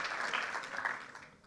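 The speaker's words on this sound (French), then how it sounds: "Nous l'applaudissons également." Audience applause at a graduation ceremony, a steady wash of clapping from a crowd filling the hall, moderately loud and tapering off slightly at the end.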